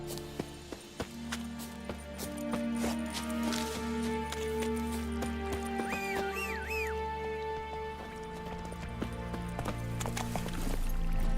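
Hooves of Roach, a horse in The Witcher 3: Wild Hunt, clip-clop at a steady pace, close and moderately loud, with a game music score running underneath.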